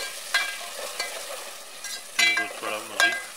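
Tomatoes frying in a pan, soft sizzling under a few close stirring scrapes and clinks of a spoon, fairly quiet with no talking.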